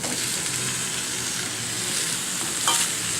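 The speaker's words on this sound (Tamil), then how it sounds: "லைட்டா பரட்டிக்குவோம்." Boiled, peeled potatoes stirred and lightly fried in a pan for a Tamil potato masala to go with poori, giving a steady close sizzle with scraping stirs and one brief louder clatter near the end, no talk.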